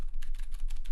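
Typing on a KBD67 MKII keyboard fitted with a Sorbothane plate mod, giving a rapid run of soft, muted clacks close up, steady and alone with no voices.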